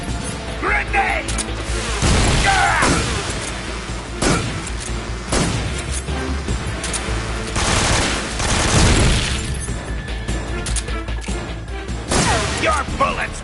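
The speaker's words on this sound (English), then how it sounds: "Your bullets won't work! Tommy gun!" Gunfire from a Tommy gun in the video game Metal Gear Solid 3, with repeated loud bursts and crashes over a dense layer of game music and effects, and voices heard in the mix.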